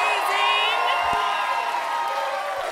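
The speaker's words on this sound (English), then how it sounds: "give a really big round of applause for the Lizard Lounge" A crowd at a Beto O'Rourke Senate rally in the Lizard Lounge, Dallas, fills the room with steady cheering and whoops over applause, loud and continuous, with voices mixed in throughout.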